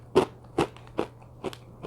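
Someone bites into spicy chili-flavored dried peas, giving five sharp, close crunches spaced evenly apart, each a bit softer than the last, over a low steady hum.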